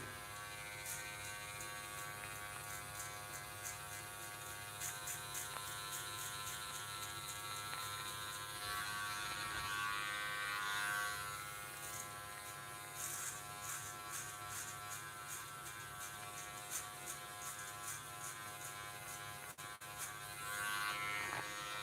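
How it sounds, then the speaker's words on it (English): An electric hair clipper buzzes steadily through a self-administered buzz cut with a 1.5 guard, a close, constant motor hum that shifts slightly in tone as it moves around the head, with no speech. "Twist and turn with the clipper in different locations to make sure you're always going against the grain."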